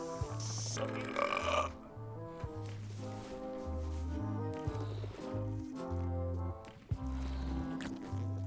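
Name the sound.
burping contest in the video game Return to Monkey Island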